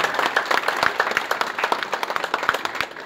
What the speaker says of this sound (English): Can we give a big round of applause to Mark?